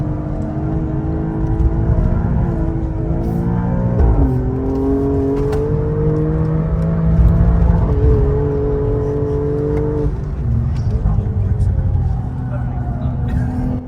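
Alfa Romeo with a Ferrari-sourced 2.9-litre twin-turbo V6 accelerating on track at a motoring festival, engine pitch climbing in repeated surges through gear changes, with talk over it.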